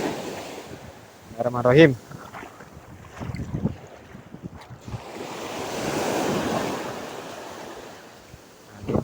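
Strong sea wind gusts across the microphone on a shore while fishing, with surf washing in a broad swelling roar; a brief spoken phrase comes near the start, and the rumble builds to a loud sustained gust midway.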